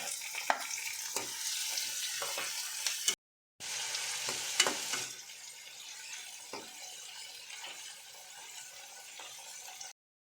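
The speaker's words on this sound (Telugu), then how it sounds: "ఇప్పుడు టమోటా వేసి వేయించుకుందాం." Tomatoes frying with browned onions in a pan, a close crackling sizzle broken by scraping stirs, with a brief pause near the start before the frying continues steadily.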